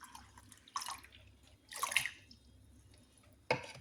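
Filtered water is poured into a homemade hair treatment mixture in a few short splashy bursts separated by quiet gaps, close and fairly soft.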